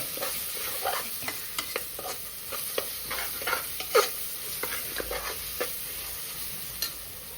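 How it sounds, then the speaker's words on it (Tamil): Onions frying for a South Indian chicken biryani crackle and sizzle in a pan while a spoon scrapes and stirs in steady, irregular strokes, close and continuous with no talk. "அப்பப்போ கிண்டிகிட்டே இருக்கணும், இல்லைன்னா வந்து அடி பிடிச்சிடும் வெங்காயம்"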